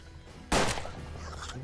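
A single sharp, loud gunshot in the video game Hard West bursts out abruptly, followed by a short ringing tail over a low steady background hum.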